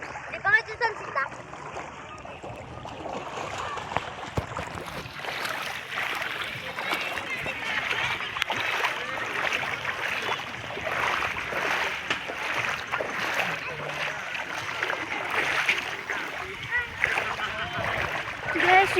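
Broad wash of sea waves at sunset, steady splashing and hissing surf close by, with a voice talking over the water throughout.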